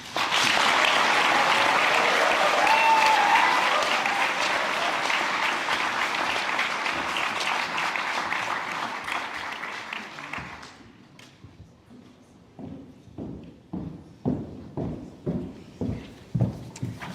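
A large crowd at an MBA graduation ceremony applauds loudly and steadily for about ten seconds. The clapping then fades to a handful of distinct claps and some light tapping, like footsteps.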